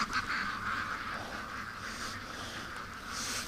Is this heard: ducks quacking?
yes